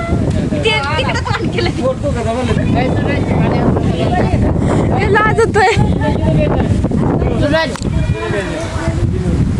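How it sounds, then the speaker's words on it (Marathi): Strong wind roars and buffets the microphone steadily throughout, with a dense wash of heavy rain pouring down in a village, while voices talk over it. "पाऊसच पडायला लागला धो धो वरून मरणाचा वारं वावदान सुटायला लागले"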